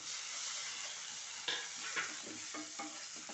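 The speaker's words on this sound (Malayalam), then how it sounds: "നന്നായിട്ട് വഴറ്റി എടുക്കുക" Onion and a small tomato with salt sauté quietly in a pan for a potato masala curry, a soft steady sizzle broken by a few scraping stirs.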